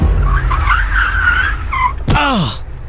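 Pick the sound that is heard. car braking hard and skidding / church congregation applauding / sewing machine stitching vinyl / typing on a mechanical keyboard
car braking hard and skidding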